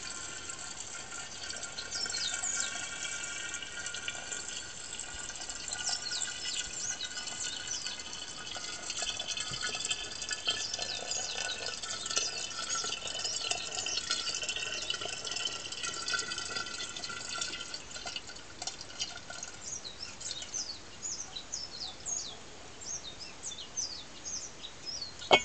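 Freshly filtered rainwater pours from a water jug into a container, a faint, steady trickling and bubbling fill that runs on for about twenty-five seconds, with chirping birds in the background.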